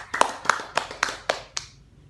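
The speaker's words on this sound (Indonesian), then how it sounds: "Beri aplaus untuk kelompok 2" A short burst of classroom applause for a student group, six hand claps in a quick, even rhythm that fade out at the end, fairly close, with no voices.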